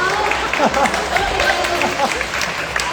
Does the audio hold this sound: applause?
yes